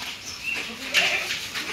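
A goat at a village home gives a short bleat, close and moderately loud, with faint background noise and no talk.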